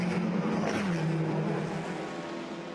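TCR touring cars, including a Cupra Competition and an Audi, race past a damaged Peugeot at Spa, their engines droning steadily at a distance as the pitch shifts slightly while they pass.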